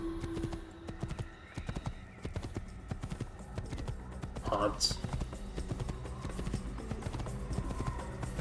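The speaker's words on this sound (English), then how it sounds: "It's a pretty amazing horse you got there." Horse hooves clip-clop steadily in the video game Assassin's Creed, a rapid rhythmic patter of a ridden horse, with a brief whinny midway and someone talking over it.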